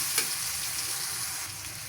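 Pangas fish pieces sizzling in a frying pan with salt, a steady close hiss with a light scrape of stirring near the start, continuous and without talk.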